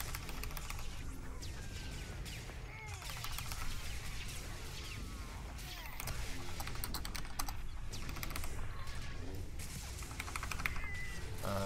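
Rapid clicking of a computer keyboard during a PvP game session of Star Wars: The Old Republic, a steady close flurry of keystrokes with brief pauses and no talking.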